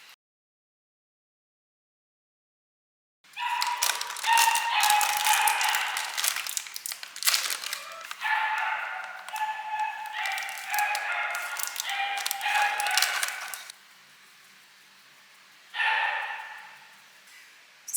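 A dog barks and yips repeatedly in the background of a home kitchen at night, a long run of sharp calls followed by a pause and one more short burst.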